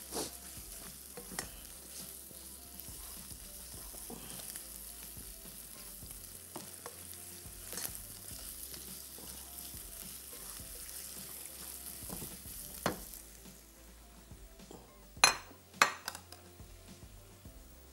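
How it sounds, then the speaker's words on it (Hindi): Chicken with turmeric sizzles and fries in a pan while being stirred, a steady crackle with scraping utensil sounds and a few sharper clanks near the end, no talking. "तो अब ज़रा सा इसको करेंगे इसके साथ मिक्स, ताकि हल्दी वाला जायका इस चिकन में खूब अच्छी तरीके से रच बस जाए।"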